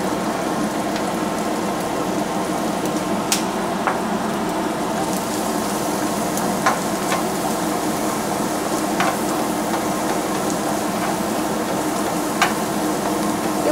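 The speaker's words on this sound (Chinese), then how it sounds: "我们先放下去爆香， 用小火慢慢的爆" Shiitake mushrooms and dried shrimp stir-frying in a pan over low heat, a soft continuous sizzle with light scraping and occasional clicks of the spatula. Steady and fairly close, with no talking.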